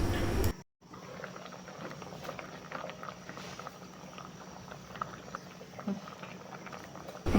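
Black-eyed beans boiling in salted water in a pot, a steady low bubbling and patter that continues evenly after a brief sharp cut near the start.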